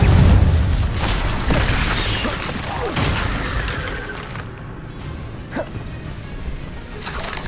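A casting sequence of the Incendio fire spell in the game Hogwarts Legacy gives a loud, rumbling burst of flame with booming low-end and crackling texture that gradually thins out, followed by a couple of sharp pops near the end.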